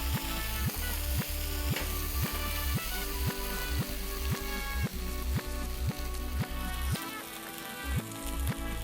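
Crispy fried vegetables with chillies sizzling in a pan as they are stirred, a continuous crackle with regular clacking stirring strokes, close and fairly quiet, without speech.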